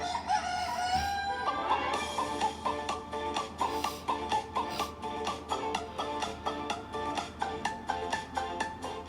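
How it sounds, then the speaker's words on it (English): A bouncy tune plays with rhythmic clucking chicken sounds woven into the beat, repeated steadily as part of the music, bright and upbeat. "that is a clucking sound"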